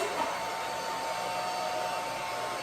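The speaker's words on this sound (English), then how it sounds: "you blow dry a chicken bum" A hair dryer on its warm setting blows air over a chicken's rear end, a steady, close, unbroken whooshing whir that holds at an even loudness throughout, with no talking.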